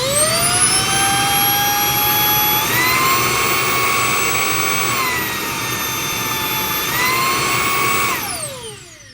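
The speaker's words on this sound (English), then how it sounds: "So if I turn it on" A Shark DuoClean cordless vacuum cleaner, model IF200UK, runs with a loud, high-pitched motor whine that steps up and down between speed settings, then spins down as it is switched off.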